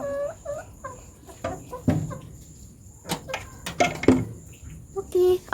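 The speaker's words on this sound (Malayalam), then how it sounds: "എൻ്റെ ക്യൂട്ട് കോഴിയാണ്, പാവം." Pet hen clucking close by, a series of short irregular clucks and soft calls at varying loudness, with someone talking in between.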